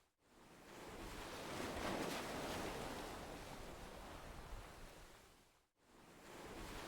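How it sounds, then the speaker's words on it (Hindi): Ocean waves breaking on a sandy shore, a soft, steady wash of surf that swells and fades, dipping briefly to near quiet before the next wave rolls in. "लहरों की आवाज पर ध्यान ले जाएं"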